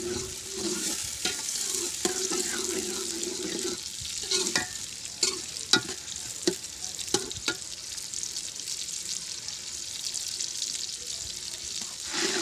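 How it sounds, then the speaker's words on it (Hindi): Continuous sizzling of onions frying in a hot pan with repeated scraping and clinks of a spoon stirring, close and steady, with faint voices in the background. "प्याज हमने भून लिया है अच्छी तरह"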